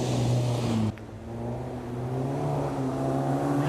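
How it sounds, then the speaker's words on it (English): A little front-wheel-drive Hyundai rally car at a rally sprint, its engine note holding a steady, fairly loud drone that dips briefly as it shifts, then climbs again while driving past at moderate distance. "Next away, have another little Hyundai"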